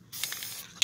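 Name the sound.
spraying Flex Seal from a spray can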